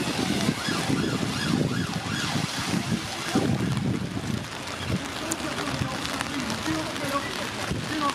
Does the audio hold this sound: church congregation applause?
no